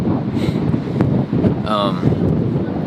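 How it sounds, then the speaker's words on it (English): Strong wind blows outdoors and buffets the microphone in a constant roaring rush with gusty bumps, while a person speaks over it. "It's really windy out here."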